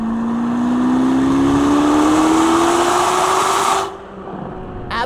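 A Chevrolet Corvette ZR1 engine revs hard while driving through canyon roads in manual mode, a loud rising roar climbing steadily in pitch before cutting off abruptly into a quieter lull.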